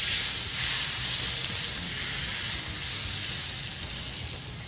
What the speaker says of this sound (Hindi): चलिए जी, अदरक के साथ इसको हमने तड़का लगा दिया है।